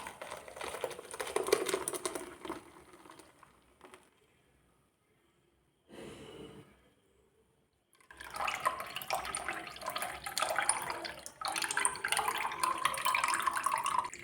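Apple juice poured through a strainer into a bowl, a soft trickling splash that stops briefly in the middle and then resumes more loudly, close and with no talking.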